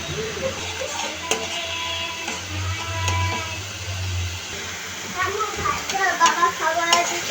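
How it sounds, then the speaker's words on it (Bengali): Turmeric, chili, salt and chopped tomato are sautéed and stirred in a pan for fish curry, giving a low sizzle with utensil scrapes under a speaking voice. "মশলাগুলো সুন্দরভাবে কষিয়ে নিলাম।"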